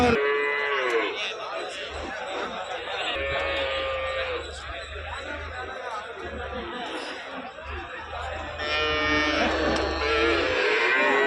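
Cattle mooing at a busy livestock market in Erode, several loud drawn-out lows from nearby animals over constant crowd chatter and people talking throughout.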